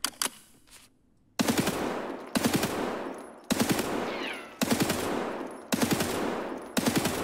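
Full-auto gunfire in Escape From Tarkov, several loud sustained bursts of rapid shots separated by brief pauses, with short silent gaps between the first bursts.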